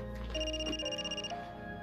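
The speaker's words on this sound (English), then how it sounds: "Can you shut the phone so we can talk?" A telephone rings with electronic tones that sound for about a second and then stop. It is fairly quiet and sits over faint background sound.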